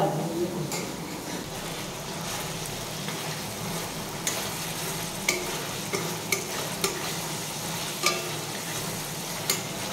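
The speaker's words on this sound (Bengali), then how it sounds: "এখন বোনলেস গুলো ভাজছি" About 1.5 kg of boneless marinated meat fries in a pan, a soft continuous sizzle punctuated by repeated clicks and scrapes of stirring, with a person speaking at times.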